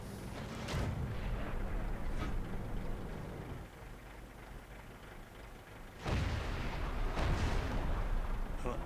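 Heavy gunfire from a Tier 9 T30 tank destroyer in World of Tanks: loud booming shots with rumbling tails, one early blast and a close pair later, with a voice talking in between.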